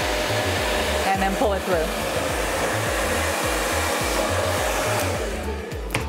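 A hair dryer blows loud and continuous during a brush blowout of short hair, its airflow pulsing slightly as the brush moves, while someone speaks briefly over it.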